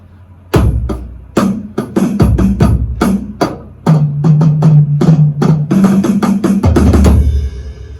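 A loud, close drum fill: snare strokes with quick grace-note drags mixed with deeper tom hits, in a busy, syncopated rhythm.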